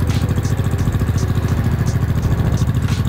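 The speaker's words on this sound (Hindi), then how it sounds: "एक बार एग्जॉस्ट नोट सुनो यार," A Honda H'ness CB350 motorcycle idles just after a cold start, its exhaust giving a loud, close, steady low thumping beat with a fast even rhythm and no talking over it.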